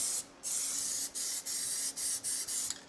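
Aerosol can spraying a coat of Plasti Dip onto a car wheel, a loud close hiss released in a series of bursts with short gaps between them, no talk.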